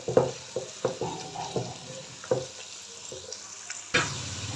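Mixed vegetables and cut potato fry in a pan with a steady low sizzle, broken by repeated clattering stirs of a spoon against the pan every half second or so, close up and without talk.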